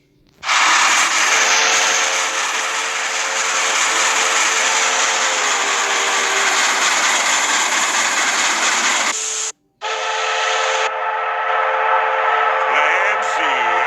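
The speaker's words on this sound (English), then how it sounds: "1522 steam locomotive's whistle." The Frisco 1522 steam locomotive sounds its whistle in a long, loud, sustained chord, then after a brief gap gives a second, shorter blast that trails off.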